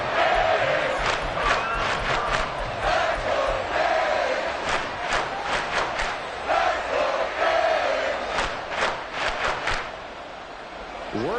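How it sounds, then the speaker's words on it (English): Football stadium crowd roaring at fever pitch during an NFL game involving the Bills, a sustained loud roar with repeated swells of cheering and shouting. "Work to do here with a crowd at fever pitch."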